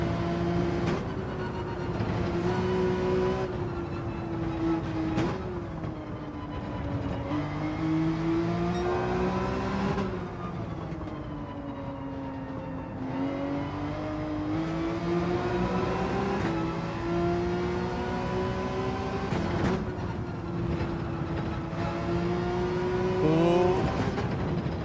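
A Porsche GR.3 race car engine in Gran Turismo 7 howls close and loud through repeated upshifts, each gear rising in pitch then dropping, in a steady rhythm across the lap with no voices.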